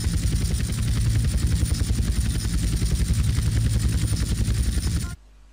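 A helicopter in GTA San Andreas flies with loud, steady rotor chop and engine roar close by, pulsing evenly for about five seconds before cutting off abruptly.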